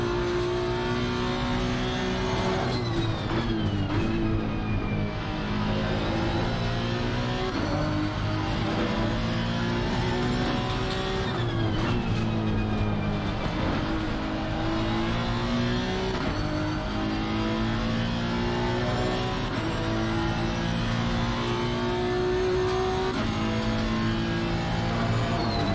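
GT3 race car at Donington in Assetto Corsa Competizione, engine note held loud and close through the whole stretch, rising and dropping with upshifts and downshifts under sustained throttle, with no talk over it.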